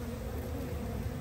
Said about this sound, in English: the swarm of bees that was on the solar panel